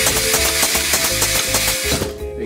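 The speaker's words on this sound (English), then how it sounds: "Again, some power hammer control." A blacksmith's power hammer whirs with a rapid series of chopping thuds as it slices a yellow onion, steady and close, then cuts off near the end.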